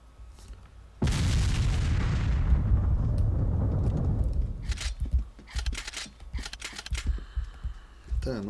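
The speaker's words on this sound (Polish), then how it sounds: "te wybuchy" Explosions and artillery fire in the video game Terrawars: a sudden heavy boom that rumbles on for several seconds, then scattered sharper blasts and impacts with brief gaps between them.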